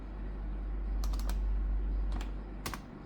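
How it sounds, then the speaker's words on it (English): Someone types a command on a computer keyboard in a few short clusters of quick keystrokes over a steady low background hum. "Just type the command list"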